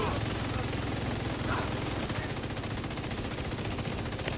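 Sustained automatic gunfire in a shooter game as a full magazine is emptied, one long unbroken stream of rapid, loud shots.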